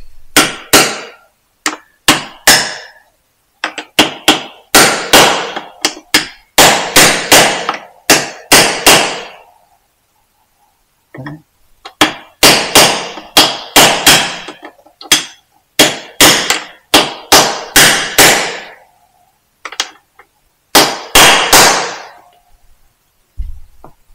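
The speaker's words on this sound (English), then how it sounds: "So using a race fitting tool, which is just a tapered aluminium tool." A hammer drives a tapered aluminium race fitting tool onto a bearing race of an Aprilia RS660 motorcycle, with close, sharp metallic blows in rapid clusters and a short pause midway.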